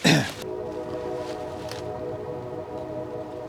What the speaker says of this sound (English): The train is here.